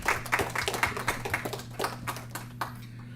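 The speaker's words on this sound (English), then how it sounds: "if you can give those guys a round of applause, I would truly appreciate it." A committee meeting audience applauds interns, a short burst of scattered hand clapping from a modest group in a room, close and fairly loud, tapering off after about three seconds with a low hum behind it.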